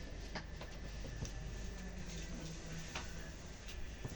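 Indonesian CC 201 diesel locomotive hauling a passenger train as it departs, heard from on board: a steady low rumble with rolling wheel noise and faint rhythmic clicks of wheels over rail joints, continuous throughout.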